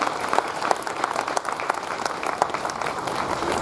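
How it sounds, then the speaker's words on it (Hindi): Audience applause welcoming guests at a religious gathering with garlanding, a steady, fairly loud wash of clapping with no talk over it. "तालियों से जोरदार स्वागत।"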